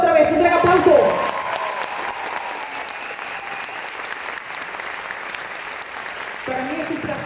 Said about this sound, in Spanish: Por favor, otra vez, un gran aplauso.